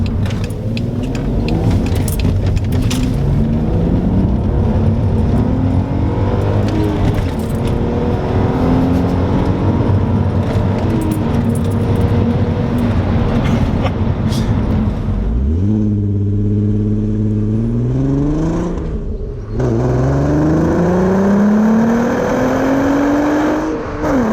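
A Volkswagen Golf Mk4 R32 with its 3.2 engine accelerates hard from inside the car, the engine note climbing loudly in long pulls, then dropping at two gear changes before revving up again.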